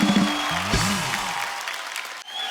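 Studio audience applause on a Hindi comedy talk show, a broad burst of clapping that fills the room and slowly thins out, with some low tonal sound underneath near the start.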